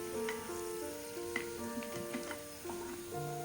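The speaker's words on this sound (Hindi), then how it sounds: "एक दरमियानी साइज़ का प्याज लेकर स्लाइस कट करके वो इसको अच्छा सा गोल्डन फ्राई कर लेना है" Sliced onion fries in ghee in a frying pan, giving a soft, continuous sizzle beneath steady background music.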